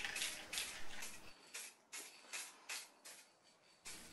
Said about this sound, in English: So I'm just spraying the bare areas,